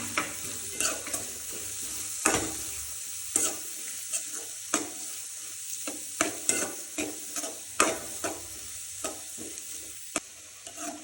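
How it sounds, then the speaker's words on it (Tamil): Sliced onions with curry leaves sautéing in hot oil in a pan, stirred with frequent sharp scraping strokes over a steady loud sizzle. "இப்போது வெங்காயம் போட்டுக்கலாம். நல்லா வதக்கிக்கோங்க."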